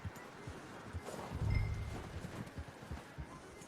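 A horse walking on snowy ground in a winter setting, its hooves clip-clopping in a steady, soft rhythm at low volume, with faint rustling around the steps.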